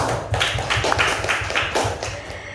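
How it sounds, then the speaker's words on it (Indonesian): A small audience applauds a speaker with steady, rhythmic handclaps that carry on for a few seconds at moderate loudness. "Aplaus dulu buat Bunda"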